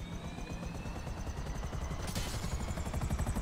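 A helicopter in Grand Theft Auto V: a steady rotor chop and engine drone with a rhythmic pulse, fairly loud and constant, with a brief burst of noise partway through.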